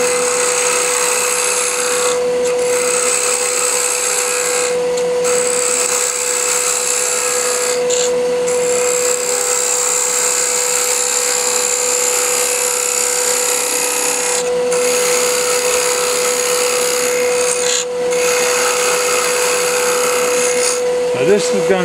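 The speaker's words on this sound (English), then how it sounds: "Using a little multi-tool." A small rotary multi-tool whines steadily at high speed while working a wooden wine goblet, pausing briefly several times before spinning up again, loud and close.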